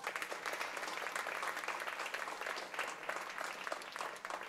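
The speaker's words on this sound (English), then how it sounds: "with a huge round of applause." Steady, dense applause from an audience at a formal reception during a visit by a governor to a charitable institution, moderately quiet and uninterrupted.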